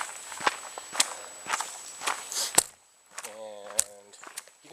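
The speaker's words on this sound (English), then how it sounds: "you can probably hear when I'm using the pole as a trekking pole and when I'm not" Trekking pole tapping the ground on a walking trail, giving sharp, evenly spaced ticks in step with footsteps, fairly close and moderately loud, with a brief stretch of a voice partway through.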